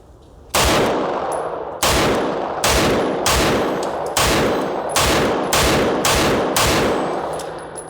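Beretta PX4 Compact pistol fitted with a compensator firing nine loud, sharp shots at a steady, fairly quick pace outdoors, each report ringing briefly before the next.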